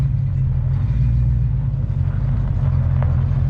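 A Ford Foxbody 5.0 convertible with its top down drives through snow, its steady low engine rumble and road noise holding constant and close throughout.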